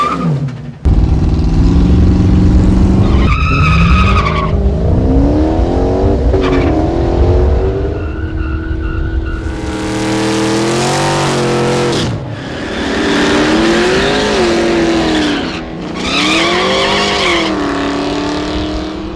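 A 1970 Dodge Challenger hot rod making a quarter-mile drag pass at the Hot Rod Power Tour, its engine roaring loud and near through repeated revving climbs and shifts, with brief drops between pulls.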